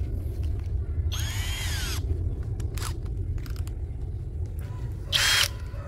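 A 12V brushless cordless drill set to drilling mode at speed one bores through material, giving two distinct whining bursts near 1.2–2 s and 5.2–5.5 s, with brief clicks between, over a steady low background rumble.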